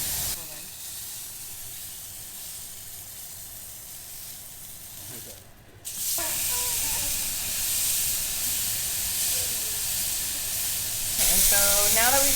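A thick burger patty fries in a pan for a keto breakfast, giving a steady hiss and sizzle that jumps louder midway and stays close and continuous to the end.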